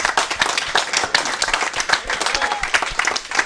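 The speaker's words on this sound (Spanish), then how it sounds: "Un aplauso para todos ellos." A studio audience on a Cuban TV program gives brisk applause for a group of actors, steady rapid clapping lasting a few seconds.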